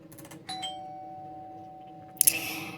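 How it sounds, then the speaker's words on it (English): Doorbell ringing: a clear two-tone chime with the second note ringing on for over a second, followed by a brief sharp clatter, indoors and with no one talking. "After you complete changing the diapers, the doorbell rings."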